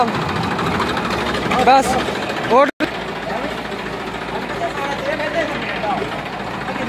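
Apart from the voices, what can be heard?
Massey Ferguson 241 tractor engine idling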